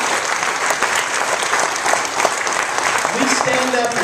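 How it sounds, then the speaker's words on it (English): Church audience applauding a Bible quiz team at a Baptist church, a steady round of many hands clapping, close and full, with some voices mixed in. "let's give them a hand"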